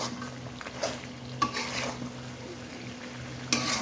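Duck meat is stir-fried down in a pan with bay leaf and spices, making a soft, continuous sizzle under occasional scraping stirs and a few metallic clinks, heard up close with no talking.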